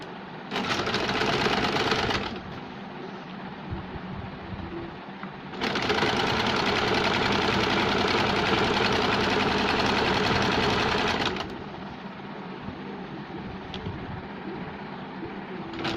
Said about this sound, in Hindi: अब हम आर्म होल के ऊपर एक फिनिशिंग के लिए सिलाई लगाएंगे इसके ऊपर से।